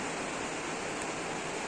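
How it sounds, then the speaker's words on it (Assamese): Rain falls outside in a steady, even hiss that holds unchanged for a couple of seconds, soft and fairly distant, with no voices. "বাহিৰত বৰষুণ"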